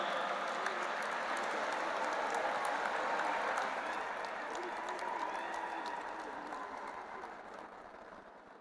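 At the World Interfaith Harmony Conference, a large hall audience gives a big round of applause welcoming Professor Dr. Vishwanath Karad, a broad continuous roar of clapping that gradually fades over its final seconds.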